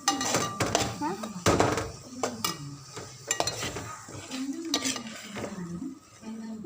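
Food being stirred in a pan with a utensil, sounding as close, irregular scrapes and clinks against the pan over a faint sizzle, with some talking in between.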